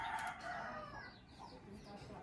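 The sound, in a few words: person imitating a chicken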